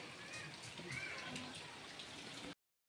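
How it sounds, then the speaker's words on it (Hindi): Faint, soft patter of light night rain falling in Delhi, with scattered drips over a quiet background, ending abruptly. "हल्की हल्की बारिश की बूंदी पड़ रही है"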